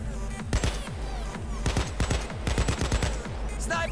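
Bursts of golden AK rifle fire in Payday 2, a rapid string of loud, sharp shots with brief pauses between volleys, set against steady game background noise.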